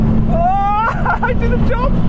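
A race car accelerates hard on nitrous, its engine note climbing steadily under a loud, continuous roar while voices talk over it.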